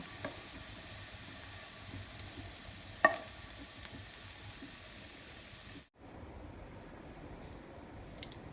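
Onions and potatoes sizzle quietly in a pan while being stirred, with a single sharp utensil clink partway through. The frying fades to a softer hiss near the end.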